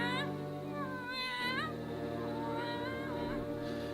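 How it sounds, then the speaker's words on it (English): A black tomcat meows in a radio drama, giving a few drawn-out, rising and falling cries, close and clear over a quiet steady background hum. "Yes, it's a cat."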